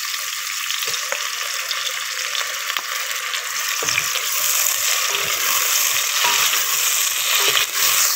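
Tomatoes added to softened onions sizzle steadily in a pan, a loud close frying hiss with a few soft stirring knocks and no voices.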